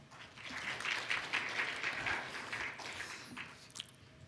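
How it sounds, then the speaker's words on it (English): A conference audience at a regional connectivity forum gives a welcoming round of applause, soft and somewhat distant clapping that swells and then tapers off. "Ladies and gentlemen, please join me in welcoming him with a big round of applause."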